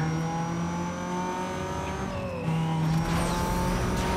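An American car in a Need for Speed Most Wanted drag race revs hard, a loud sustained engine drone that climbs in pitch and surges louder near the end, with no voices over it.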